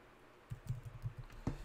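A computer keyboard typed on up close: a short, uneven run of about half a dozen crisp keystrokes, ending with one sharper, louder tap.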